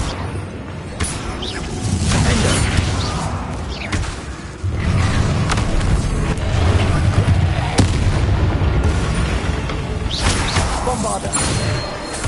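Spell explosions from Confringo in the video game Hogwarts Legacy, fought in the Great Room against Inferi: repeated booming blasts and thuds over a loud, continuous battle din, with game dialogue shouting in between.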